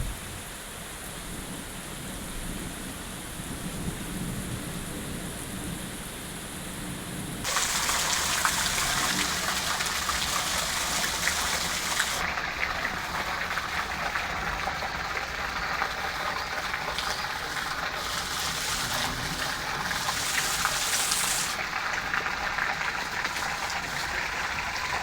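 Heavy wind-driven rain, a softer patter at first that abruptly swells into a loud, bright, roaring downpour, which then stays dense while its intensity shifts slightly.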